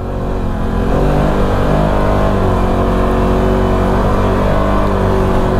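A Can-Am Maverick Sport side-by-side runs steadily in low gear, its engine holding a loud, continuous drone with a rough harmonic rumble close by, the level rising slightly after the first second and staying even throughout.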